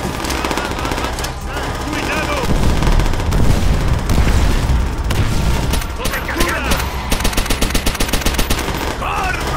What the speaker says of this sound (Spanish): Lanzo granadas.